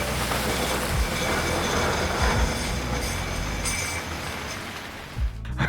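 A tram from an animated short rumbles past loud and close in a steady rolling wash with clacking wheel thumps, easing off at the end as it moves away.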